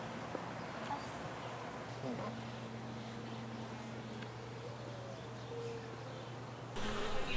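Steady buzzing of honey bees hums continuously, fairly close, with a low droning tone throughout and a brief louder rustle near the end.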